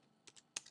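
A few quiet, close keystrokes on a computer keyboard, three or four soft clicks in quick uneven succession.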